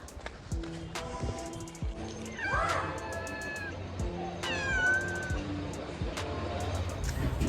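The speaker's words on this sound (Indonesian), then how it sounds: "Jadi banyak juga kucing-kucing jalan kayak gini nih." Stray street cats in Egypt meow repeatedly and fairly close, with several drawn-out, rising cries over a busy outdoor street background with passing footsteps and traffic.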